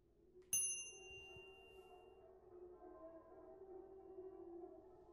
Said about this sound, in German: Wollen wir die Glocke läuten?